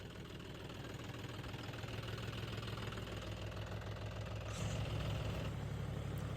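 Farm tractor engine running after being started, fitted with a rotavator, a loud steady rhythmic diesel chug with a close idling throb that swells slightly toward the end.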